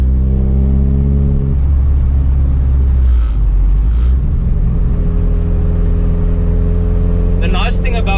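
Engine of a Volkswagen Mk1 Golf with a 2.2-litre ABF conversion and individual throttles, held at about 3000 rpm in third gear: a loud, steady, deep drone that shifts pitch partway through, with talking over it.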